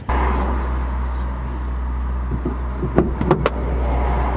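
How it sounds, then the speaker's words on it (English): Steady, loud rumble of passing cars on a busy road, continuous throughout, with a few sharp clicks and knocks near the end. "this road basically has traffic on it all day long"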